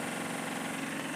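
Brief stretch of a 2022 Tata EX2 engine running at idle, a constant low hum heard up close and alone.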